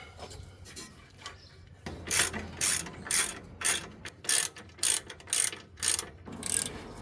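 A ratchet loosening brake caliper bolts on a Hummer H3 axle, with about a dozen crisp, rhythmic clicking strokes close by after a quieter start, and no talk over them.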